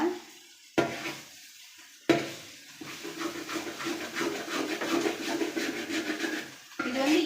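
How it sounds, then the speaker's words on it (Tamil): Okra being stirred as it fries in a pan: a couple of sharp utensil knocks, then a rising steady sizzle with scraping stirs that fades at the end, close and moderately quiet. "வெண்டைக்காய் போட்டு நல்லா கிண்டிக்கிறேங்க"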